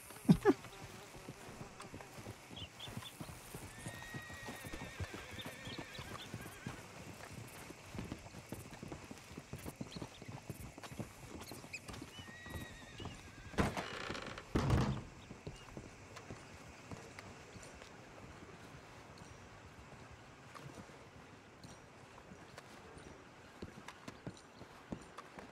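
Horse hooves pulling a stagecoach in the video game Red Dead Redemption 2 clip-clop steadily at a walk, fairly faint, with a brief burst of rushing noise midway.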